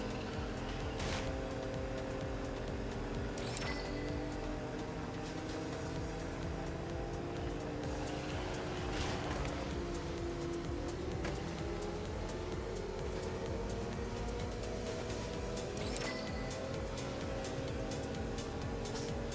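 Steady engine drone of a Porsche driven in a video game, a continuous mid-level motor hum with shifting pitch and a few sharp transient clicks over it.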